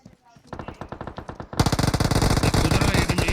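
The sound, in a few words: horse galloping and gunfire in video game PUBG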